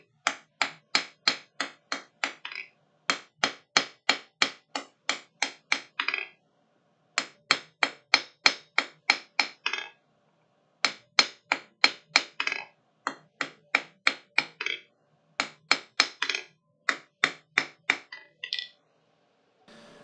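Hammer blows at a blacksmith's forge ring out in quick, even runs of about eight to ten strikes, each run broken by a short pause, loud and alone with no talk.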